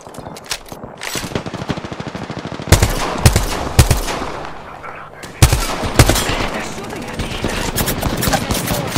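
Sustained video-game gunfire directed at the player: rapid automatic bursts and sharp shots crackle throughout, with heavier loud volleys around the middle, mixed with faint talk and game noise.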